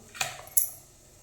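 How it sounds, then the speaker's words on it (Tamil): Two sharp metallic clinks of a knife against a plate or pan while slicing cooked goat blood into small pieces, quick separate taps in a quiet kitchen with nothing else around them. "வேக வச்சுருக்கிற ரத்தத்தை குட்டி குட்டியாக கட் பண்ணிக்கலாம்"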